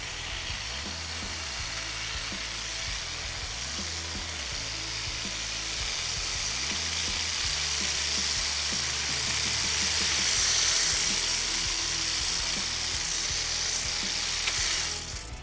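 Milwaukee Quik-Lok hedge trimmer attachment trimming the lower branches of a tree, a steady, loud motorized buzz that holds for the whole stretch and swells slightly at times as the blades chew through growth.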